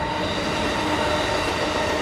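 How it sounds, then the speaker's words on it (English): A train rolls past close by, a dense continuous roar of wheels on rails with faint metallic squeal, loud and steady throughout. "We got a train coming by."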